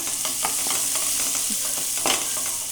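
Ground roasted coconut stirred into a frying crab curry, a loud continuous sizzle broken by repeated spoon scrapes and a sharper clatter near the end, close up with no voices.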